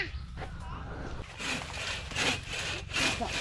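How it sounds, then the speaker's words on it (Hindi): Rhythmic back-and-forth strokes of a hand saw cutting through wood, several rasping pulls in steady succession nearby, in a village in Cambodia. "ये बंदा लकड़ियाँ काट रहा है।"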